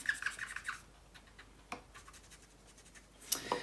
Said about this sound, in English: just practice using the blending stump for moving the charcoal around the drawing